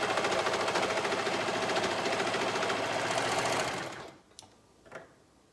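A sewing machine stitching fabric around a kids' garment, a fast steady mechanical whir and rattle for about four seconds, then it stops, leaving a couple of soft clicks.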